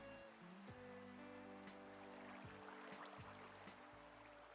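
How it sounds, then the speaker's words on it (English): Steady rain patters softly in a video game, a faint, continuous wash of drops on surfaces with occasional brief knocks and tones over it. "Not a fan of the fact that it started raining."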